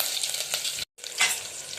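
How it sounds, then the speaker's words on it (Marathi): Hot oil tempering for dal with garlic cloves, green chillies and curry leaves, crackling and sizzling steadily up close, broken by a brief silent gap before the spitting resumes. "चला आपल्या वरणाची फोडणी छान झाली आहे"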